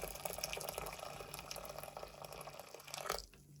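Boiling water poured into a pan of lentils, a steady splashing trickle of liquid that runs for a few seconds and cuts off abruptly at the end.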